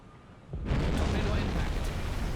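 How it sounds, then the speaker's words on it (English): A torpedo striking a ship in the submarine game Silent Hunter 5 bursts in after a brief lull as a loud, sustained rumbling blast that rolls on without fading. "Torpedo impact."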